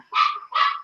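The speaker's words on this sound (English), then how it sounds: "excuse my dogs that are getting ready to bark" Two quick sharp barks from a dog indoors, close and loud, one right after the other.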